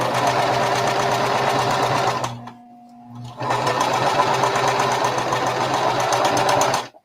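A sewing machine stitches a bandana tote bag closed, running in two steady bursts separated by a short pause, loud and close.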